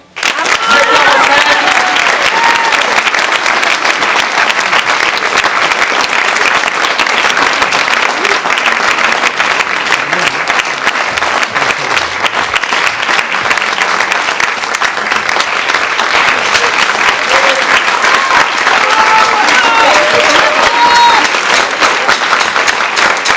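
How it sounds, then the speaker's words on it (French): Sustained applause from a large theatre audience after a play, loud and dense clapping that continues without pause for over twenty seconds. "merci de vos applaudissements"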